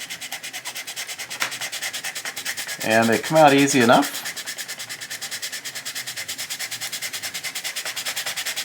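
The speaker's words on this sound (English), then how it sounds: "So I'm just going to take a greater 20 grit sanding sponge" Rhythmic back-and-forth rubbing of a 20 grit sanding sponge over a plastic 1/350 model battleship hull, steady close scratchy strokes, briefly interrupted by someone speaking.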